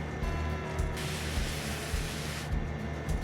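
Pressure hose spraying in Farming Simulator 25, a steady hissing wash of water noise that swells and fades in bursts over a low rumbling background.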